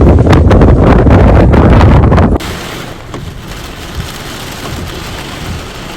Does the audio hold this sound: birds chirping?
no